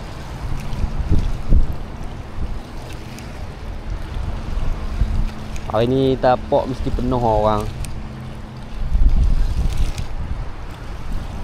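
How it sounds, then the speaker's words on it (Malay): Strong wind buffeting the microphone with waves lapping on the water under the Penang Bridge, a constant rushing roar with gusty swells. Someone speaks briefly partway through. "Dengar angin kuat, alun tak berhenti."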